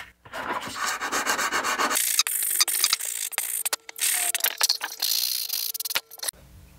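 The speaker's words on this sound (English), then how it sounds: "Now I'm going to sand that off to make it nice and neat." Steady rasping of sandpaper rubbed back and forth against a small model rocket fin, close up, in bursts with brief pauses between strokes.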